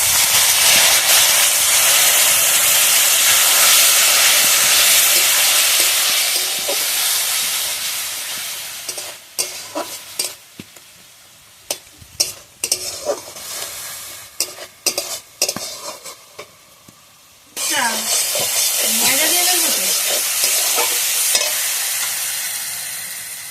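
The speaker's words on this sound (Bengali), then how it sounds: "মশলাটা ভালোভাবে কষিয়ে নেবো" Spice masala fries hard in a hot pan, a loud broad sizzle and hiss that breaks into spattering pops and stirring scrapes mid-way, then surges back to a steady roar as hot water goes in.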